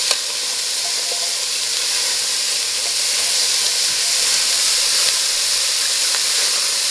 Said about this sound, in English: Hear them sizzling.